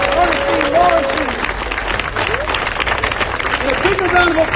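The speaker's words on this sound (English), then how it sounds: "And a big round of applause for Malik Yoba" An audience applauds at a live event, a steady wash of clapping and crowd noise lasting several seconds, with a voice speaking over it.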